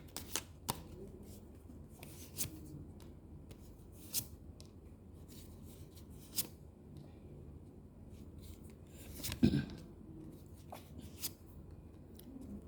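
Tarot cards are shuffled close up, making soft, papery riffles and taps with several sharper slaps, quiet and intermittent, with no talking.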